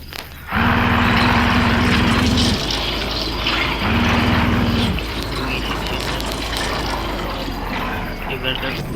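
A propeller airplane engine in a video game, a buzzing droning tone that surges in two bursts over a continuous rushing roar, loud and close.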